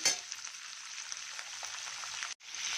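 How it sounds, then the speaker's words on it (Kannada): Chopped onions fry in a pan with a steady, bright sizzle, close and fairly quiet, broken by a brief silence before the hiss resumes. "ಇರುಳ್ಳಿ ಸ್ವಲ್ಪ ಫ್ರೈ ಆದಮೇಲೆ ಬಟ್ಮೆಂಟ್ ಇಂಟಾ ಹಾಕ್ತೀನಿ"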